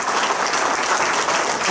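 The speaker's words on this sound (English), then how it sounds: "Can we have a nice round of applause for the guys from Lansford?" Audience applause fills Memorial Hall in Jim Thorpe during a Carbon County Sports Hall of Fame ceremony: steady, dense clapping from a full crowd, loud and continuous throughout, with no speech over it.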